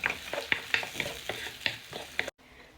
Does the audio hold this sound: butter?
yes